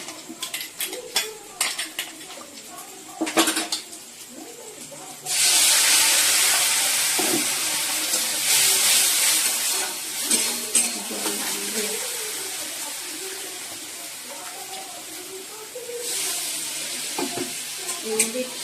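Poppy seeds fry in a pan as water is poured in, setting off a sudden loud hiss and burst of steam that stays strong before easing into a softer, steady sizzle, with utensil scrapes and someone talking quietly at times.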